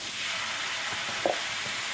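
A spoonful of tomato goes into a pan of moussaka frying in oil, giving a steady close sizzle with a brief soft plop partway through.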